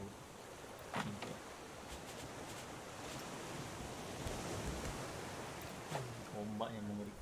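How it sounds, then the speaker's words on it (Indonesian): Rough, churning sea waves wash around a raft adrift on the open ocean, a steady broadband roar of surf and wind that stays loud throughout, with brief voices cutting in now and then. "Ombak yang mengerikan."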